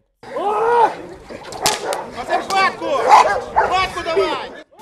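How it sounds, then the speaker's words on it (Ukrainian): A protection search dog barks and yips several times at a police dog-handler training event, the bursts close and loud amid a man's speech. "вона захисна розшукова собака"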